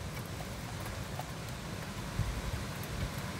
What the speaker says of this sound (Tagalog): napapansin ko na malakas ang hangin saka malakas ang ulan